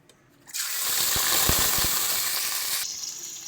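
Prawns hit hot mustard oil in a wok: after a brief quiet, a loud sizzle bursts up at once, crackles strongly with a few sharp pops, then cuts off abruptly near the end.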